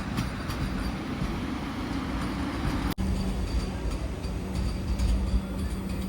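Machilipatnam Express train departing Anantapur station, a steady low rumble of the moving train with a brief sharp click midway, continuous and fairly close with no voices.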